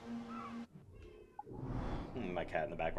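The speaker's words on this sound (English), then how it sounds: "My cat in the background, meowing." A pet cat meows in the background, with a short mewing call rising over game sounds and a person's voice.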